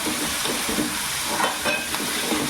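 Onion paste frying in a pan over cooked garlic-ginger paste for prawn biryani, giving a steady, close sizzle with soft stirring scrapes throughout and no voices.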